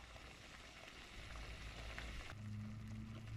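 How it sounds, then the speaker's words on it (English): Beef Lombardi sauce simmering gently in a pot, a faint soft crackle of light bubbling that continues throughout, with a low steady hum joining partway through. "Just a light bubble, just like that. Just let her simmer away."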